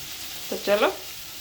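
Panch phoron, the Bengali five-spice mix, tempering in hot oil for a tomato and coriander curry, giving a faint steady sizzle with a short tonal sound rising briefly over it partway through.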